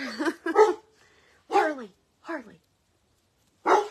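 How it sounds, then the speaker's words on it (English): Several dogs bark indoors in a home during wreath making. A few close barks and yips come in bursts, some with falling whiny tails, separated by short silences. "Oh boy, my dogs are going to bark."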